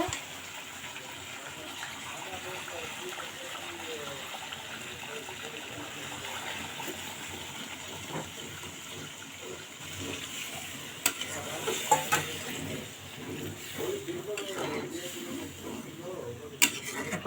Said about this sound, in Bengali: এখন একটু ঝোল দিতে হবে